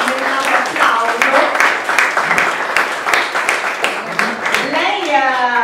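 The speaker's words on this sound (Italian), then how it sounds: "ti vuoi alzare intanto per raccogliere un grande applauso?" An audience breaks into sustained applause, a dense and fairly loud wash of clapping with a voice rising over it toward the end.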